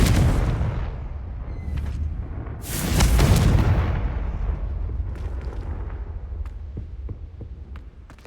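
In the Hogwarts Legacy game a Confringo explosive spell goes off, a sharp loud burst with a booming low rumble that slowly fades. Quieter clicks and small impacts follow, and a second, lesser thump comes earlier.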